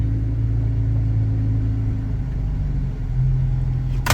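Jeep driving along, a steady close engine rumble with a drone that shifts in pitch as speed changes, ending with a sharp knock or clatter.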